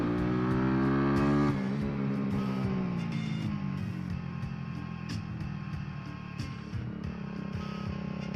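A Kawasaki Z125 motorcycle revs hard and loud at first, then drops to a lower, steadier engine drone with small throttle blips, nearby and without talk.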